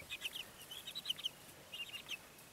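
Chicks peep and cheep in an off-grid brooder insulated with snow, rapid faint chirps coming in short clusters over a steady low hiss, with no voices.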